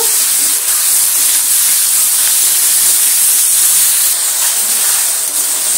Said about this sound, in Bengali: নুনটা দিয়ে টমেটোটা একটু ভেজে নেব